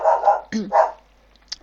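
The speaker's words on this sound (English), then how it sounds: "apologies for the dog" A dog barks close and loud, three quick barks in a row followed by a faint short yip, with no talk.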